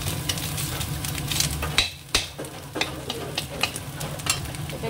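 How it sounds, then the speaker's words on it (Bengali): Grated coconut sizzles as it fries in a pan, with a spoon or spatula scraping and stirring through it in repeated close strokes; no one speaks. "এই যে নারকেলটা পুরো সুন্দর করে ভাজা হয়ে গেছে"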